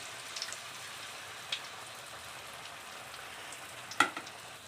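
Cabbage pakoda deep-fry in hot oil at a street-side stall, a soft, steady sizzle with scattered pops and one sharper crackle near the end.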